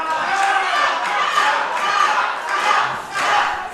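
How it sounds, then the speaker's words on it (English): Wrestling show crowd cheering and shouting as a wrestler sits caught in a leg lock, loud sustained chanting and yelling with rhythmic swells, close and filling the whole space, with a commentator's voice mixed underneath. "Crowd very much looking to Romano to tap, encouraging him to do so"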